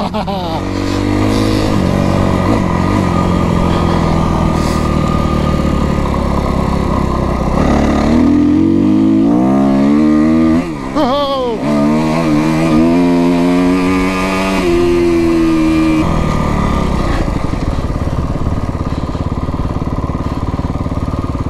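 Kawasaki KX motocross dirt bike engine revving and accelerating hard at a motocross park, loud and close with rising and falling pitch sweeps through gear changes, a voice talking over it early on.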